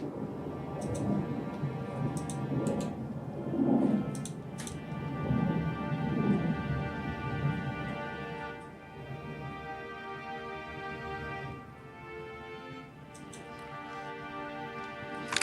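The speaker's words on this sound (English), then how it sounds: "And then the next thing is to add some strings." An orchestral string ensemble patch from Kontakt in an FL Studio amapiano track, with sustained, layered chords over a dark low rumble, swelling early and then settling into long held tones, with no voices.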